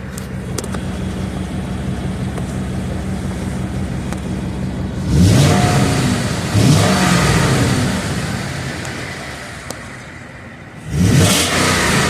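A 2014 Ford F-150 with a 5.0 V8 and a cheap aftermarket exhaust is revved a couple of times. Each loud, rising burst stands out against a steady idle, first at mid-clip and again near the end.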